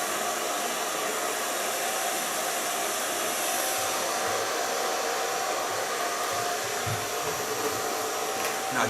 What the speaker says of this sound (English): It takes about 20 minutes for the diffuser to dry totally